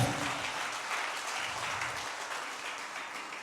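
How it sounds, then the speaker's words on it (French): A church congregation applauds and cheers in praise of the Lord during a French-language evangelistic sermon, a dense, steady wash of clapping that tapers slightly toward the end. "Est-ce que quelqu'un peut acclamer le Seigneur?"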